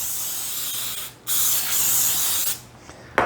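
Baking spray hisses from an aerosol can into a parchment-lined cake pan in two close bursts, the first about a second long and the second longer, followed by a brief clatter.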